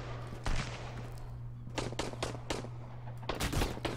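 Gunshots in the survival game Sunkenland crack out in a loud single shot, then a spaced series of sharp reports and a final quick pair, all over a steady low hum.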